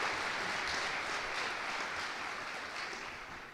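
Audience applause for two staff co-advisors at a 2023 awards event, a steady wash of clapping from a crowd that slowly fades toward the end.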